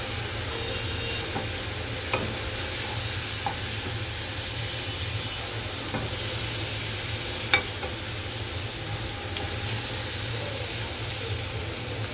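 Shrimp frying in oil in a pan, a steady loud broadband sizzle running throughout with a low constant hum beneath and a few faint clicks from stirring.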